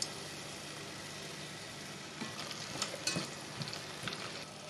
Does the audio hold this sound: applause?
no